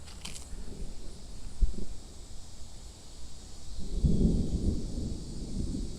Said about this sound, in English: And that thunder's really, really coming in.